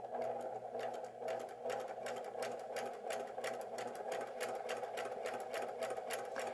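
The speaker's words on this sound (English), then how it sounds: "And I'm going to sew this." A sewing machine runs steadily, stitching pieced quilt fabric with a fast, even mechanical chatter close by, continuous with no talk.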